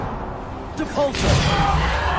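A Depulso spell cast in Hogwarts Legacy: a short whooshing burst with a tonal swirl, then a broad rushing blast that lingers over a steady game background.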